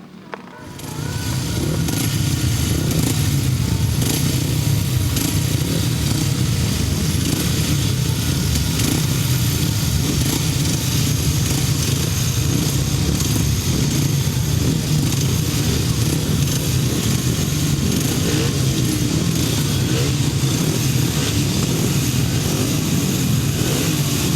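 350cc solo motorcycles at a grasstrack meeting roar loudly and steadily, a dense sustained engine drone with rising and falling revs that continues unbroken for the whole stretch, with no talk over it.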